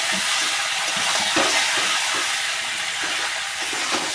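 Peeled taro added to a pan with hot oil and whole cumin seeds sizzles loudly and continuously, a dense, bright hiss of frying with faint crackles and no talking.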